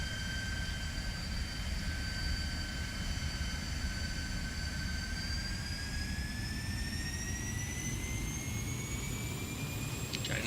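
A T-33 jet engine taxiing in a flight simulator game, a steady roaring hum with a high whine whose pitch climbs gradually partway through, continuous and without talk.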